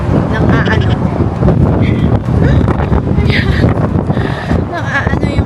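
Strong wind buffets the microphone in loud, continuous gusts in Phoenix, Arizona, with people talking faintly beneath the roar.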